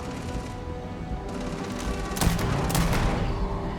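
Gunfire from a fast-firing weapon in the space game Starfield, a run of sharp shots that builds toward the end of the clip, loud and close over a dense layer of in-game noise.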